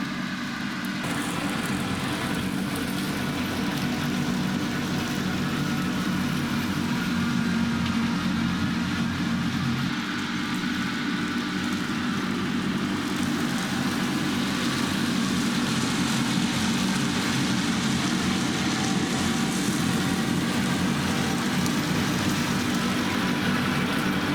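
A tractor engine runs steadily at close range, a continuous low rumble that holds constant throughout with no voices.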